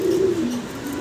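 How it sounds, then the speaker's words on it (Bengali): Several racing pigeons, a mix of running, new adult and semi-adult birds, coo together in cages, giving a steady low warbling coo that runs unbroken and fairly close for about a second. "বেশ কিছু রেসার কবুতর একসাথে দেখতেছেন আপনারা"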